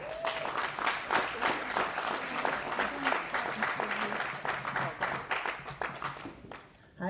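Applause fills a meeting room as an audience claps steadily for several seconds, the dense clapping fading slightly toward the end.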